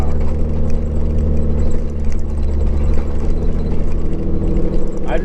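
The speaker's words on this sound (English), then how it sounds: "I just couldn't believe how much it changed the sound of the exhaust." A truck engine with modified valve timing rumbles steadily at close range through a modified exhaust, a constant low drone that holds throughout with slight revving near the end.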